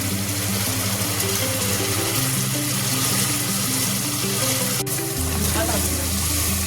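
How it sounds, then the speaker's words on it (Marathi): Dal tipped into a pan of onions fried until reddish-brown for khichadi, giving a steady loud sizzle and frying hiss throughout, with a faint tonal hum beneath and a brief knock near the end. "कांदा छान लाल झाले. आता डाळ टाकते."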